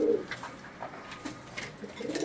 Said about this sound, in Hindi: ये देखें जी रेहान भाई के ये कबूतर अपनी मिसाल आप कबूतर हैं सारे।